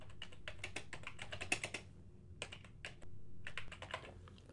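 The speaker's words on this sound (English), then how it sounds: "I can type a note right here." Fingers typing a note on a computer keyboard, quick close clicking keystrokes in bursts with a brief pause in the middle, quiet and without speech.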